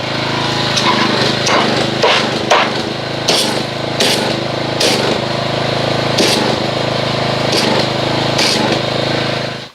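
Pressure washer running steadily and loud, spraying hybrid car wash soap made with Meguiar's Gold Class to whip it into foam, with a constant engine-like drone and intermittent spray bursts.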